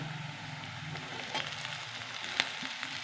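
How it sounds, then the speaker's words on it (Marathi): Chopped onion frying in a pan, a faint steady sizzle and crackle with a few brief clinks of stirring, no talk. "कांदा भाजत आलेला आहे आणि कांदा आता थोडा थोडा भाजल्यानंतर टॅमॅटो घालायचा आहे"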